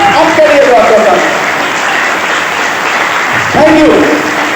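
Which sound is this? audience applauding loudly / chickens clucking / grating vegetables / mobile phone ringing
audience applauding loudly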